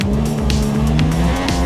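A race car in a realistic racing video game drives hard, its engine droning steadily while tires squeal through corners in a continuous, close, loud run.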